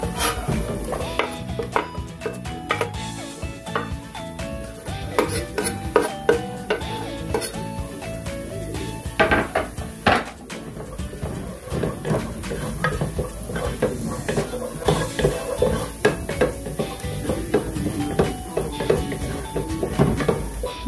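Garlic and onion sizzle in a pot for a Filipino beef mechado while a utensil scrapes and clinks against the metal in a busy, irregular stirring rhythm, close and continuous without talk.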